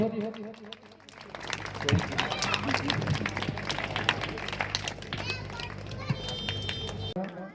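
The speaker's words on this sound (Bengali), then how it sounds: "একটু জোরে হাততালি হোক।" An audience at an annual folk festival at Shilpagram, Giletala, claps steadily for several seconds, a dense patter of many hands rising and holding, with voices talking over it.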